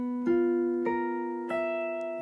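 Three separate strums of a dissonant, crunchy beginner guitar chord, each struck firmly and left to ring and fade, close and clear with no voices.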